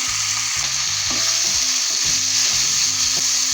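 Chopped tomatoes, green chillies and salt fry in a pan for a fish fry gravy, giving a loud, steady close sizzle with low rhythmic stirring knocks underneath and no voices.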